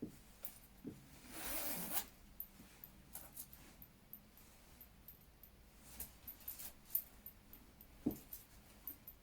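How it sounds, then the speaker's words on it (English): A jacket zipper is pulled up in one quick, faint zip near the start, followed by soft fabric rustles and small handling clicks in an otherwise quiet room. "I'll zip it up so you can see a little better."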